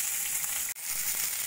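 Chicken pieces fry in a pan for a butter chicken dish, a steady close hiss of sizzling oil with a brief dip midway, no voices.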